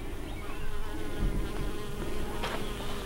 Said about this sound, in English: how beautiful it is to see all of these pollinators enjoying these plants. All the bees.